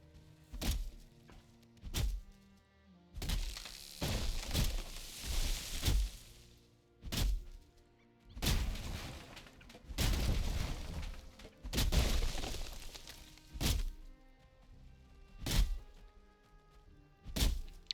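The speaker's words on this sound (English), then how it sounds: "Let's chop down this Yggdrasil shoot." Chopping down a Yggdrasil shoot in the Valheim video game: repeated sharp woody thunks from axe strikes at irregular intervals, several of them followed by crackling, shattering breaks as pieces splinter away.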